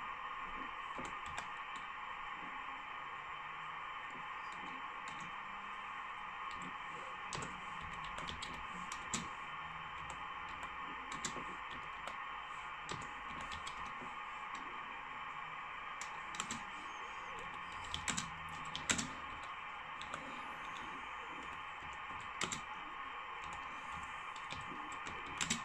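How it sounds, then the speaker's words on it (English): Sparse, single-finger keystrokes on a computer keyboard while entering a PSK31 contest call on a ham radio setup; soft, irregular clicks sit beneath a loud, steady electronic hum. "One finger typing."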